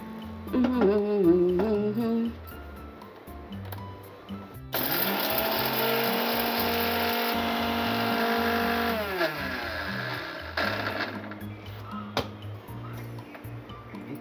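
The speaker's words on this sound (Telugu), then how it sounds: "సరే అన్నీ వేసుకున్నాం, మిక్సీ పట్టుకుందాం." A kitchen mixer grinder runs for several seconds grinding brinjal curry masala with coriander seeds, a loud, steady whining motor roar that starts abruptly and then stops, after brief sounds at the start and before a couple of short bursts.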